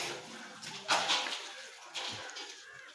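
Buckets of well water poured over a person bathing at a plastered village well, giving two loud splashing pours with sloshing and trickling in between, close by.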